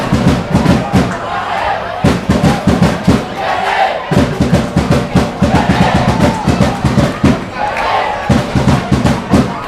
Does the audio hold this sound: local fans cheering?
yes